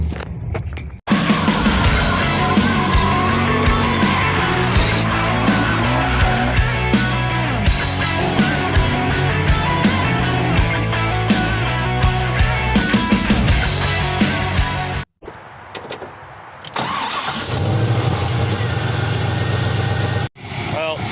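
A Trans Am's engine runs steadily and loudly with a low, even rumble, breaking off briefly before resuming, as a voice speaks over it.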